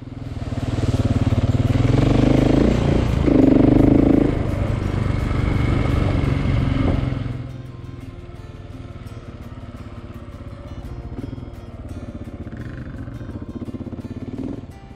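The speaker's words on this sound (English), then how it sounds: "Brent bombed down in his 500 EXC without second thought" A KTM 500 EXC dirt bike rides down a rocky, sandy track. Its engine roars loud and close for about seven seconds, then drops to a quieter, steady drone.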